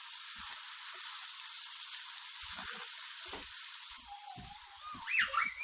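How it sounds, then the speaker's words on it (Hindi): Potatoes and carrots lightly frying in a pan, giving a steady soft sizzle with occasional faint stirring clicks, heard close and without talk. "आलू और गाजर हमारे फ्राई हो चुके हैं, ज़्यादा फ्राई नहीं किए, हल्के फ्राई किए हैं।"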